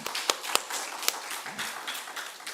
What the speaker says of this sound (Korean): 하나님 여호와께 감사의 박수를 드리겠습니다.